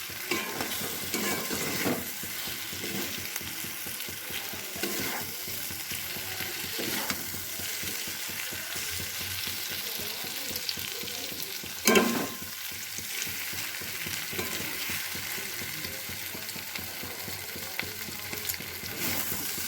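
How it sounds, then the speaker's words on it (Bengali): Boiled okra being stirred with spices in a pan, a steady soft scraping and sizzling running throughout with a brief louder clatter near the middle; no voices. "এবার মশলাগুলো ভালো করে ঢ্যাঁড়সের সঙ্গে একটু মিশিয়ে নিচ্ছি।"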